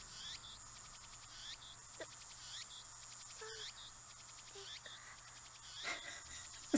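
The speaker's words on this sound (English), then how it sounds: "The only sound is the chirping of the cicadas." Cicadas chirp in a steady, pulsing chorus in the video game Steins;Gate, a quiet background drone with faint scattered clicks and a small knock at the end.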